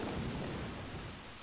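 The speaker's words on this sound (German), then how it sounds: "Was für ein heftiger Sturm." A thunderstorm in the Pokémon White video game plays as a steady, dense wash of rain with a low rumble of thunder, fairly loud and even across the short span.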